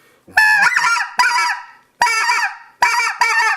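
Loud honks from a blown goose call in quick series, several rough, nasal calls with short gaps, close and clear.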